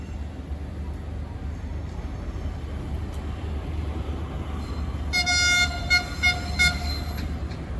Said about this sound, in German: Und hier kommt der Zug 544 aus Mahdia.